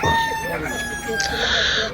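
A rooster crows loudly and close at a market selling country chickens, a single sustained cock-a-doodle call with other fowl clucking around it.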